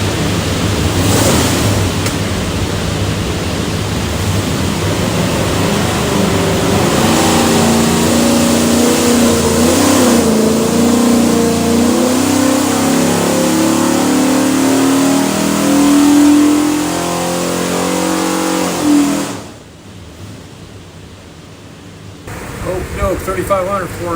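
A low-compression 408 stroker Ford engine built for an '88 Bronco roars on a dyno, building steadily in pitch and loudness for nearly twenty seconds before cutting off abruptly, then a brief quieter tail.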